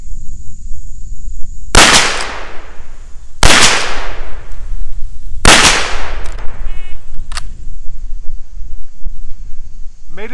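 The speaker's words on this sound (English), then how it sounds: "I have 10 seconds to drop into a prone position and fire three shots into the preferred area of the target." Three loud, sharp rifle shots from a Marlin 1894 lever-action fired from a prone position on a carbine course, spaced about two seconds apart, each ringing with a short decaying echo over outdoor background noise.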